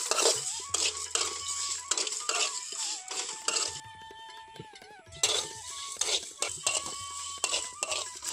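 Black mustard seeds and spices dry-roasted over low heat in a pan for a Bengali pickle, stirred with a metal spoon that scrapes and clinks in repeated bursts, with brief pauses between strokes.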